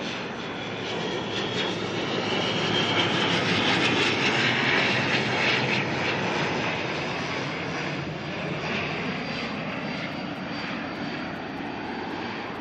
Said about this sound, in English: ATR coming in from New Plymouth, NZ5036.